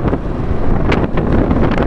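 Strong wind buffets the microphone with a steady roar and gusty swells, loud and close, with no voices.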